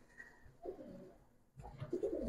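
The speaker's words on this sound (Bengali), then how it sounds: "এটা একটা মাদি কবুতর, একদম দর্শক টোকাই দিছে আর কি।" A female Giribaz pigeon coos softly at close range, giving two short, low, throaty coos with a brief quiet gap between them.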